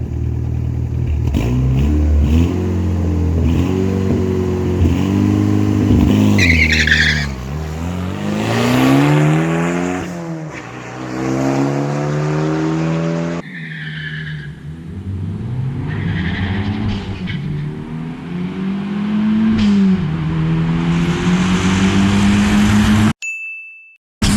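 A turbocharged 2.2-litre car fitted with 1200cc injectors and a new exhaust, accelerating hard at a drag track, its engine note climbing through the gears in loud, sweeping harmonics before a brief lift and another rising pull, with no talk.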